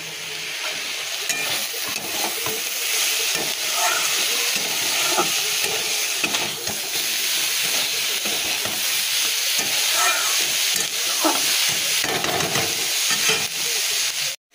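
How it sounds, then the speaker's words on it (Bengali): Snake gourd frying in a pan: a steady, loud sizzle and hiss runs throughout, broken by repeated scraping from stirring. "চিচিঙ্গা ভাজাটা দাঁড়াও আগে দেখিয়ে নি, নাড়া দিতে হবে, গন্ধ ছাড়ছে।"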